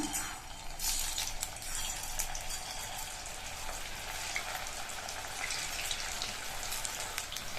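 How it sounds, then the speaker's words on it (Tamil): Steady crackling and sizzling of marinated plantain slices frying in hot oil, continuous and close, with scattered sharper pops. "நம்ம மேரினேட் பண்ணி வச்ச வாழைக்காயை ஒவ்வொன்றா எடுத்து எண்ணெயில சேர்த்துடலாம்."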